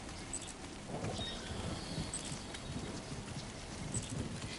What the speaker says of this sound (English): I hear the freaking BT footsteps though